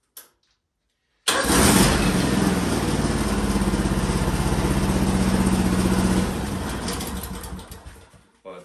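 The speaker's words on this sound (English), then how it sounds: "the engine runs good, starts great" A Case 155 4x4 articulated tractor engine cranks and catches after a brief silence, then runs at a steady, loud idle for about five seconds before shutting down and winding away.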